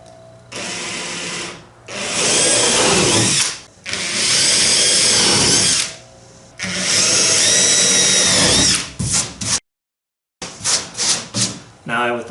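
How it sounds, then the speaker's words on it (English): A power drill whirs through wooden boat planking in three long, loud bursts, then stops and restarts in several quick short spurts. "Let's set up my drill, and we're just going to go straight through."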